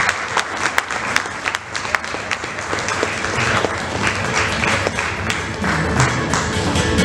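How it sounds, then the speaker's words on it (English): A crowd applauds, scattered claps building into steady clapping that continues throughout. "A round of applause if you like the drama."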